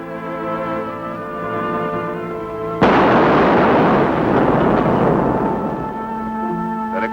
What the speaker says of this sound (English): That explosion took care of them.